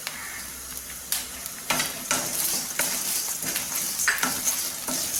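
Black urad dal and curry leaves roasting in a pan on the stove, a steady sizzle with scraping stirs and sharp crackles that build after a quiet start, no voices.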